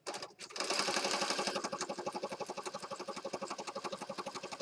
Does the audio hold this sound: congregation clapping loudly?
no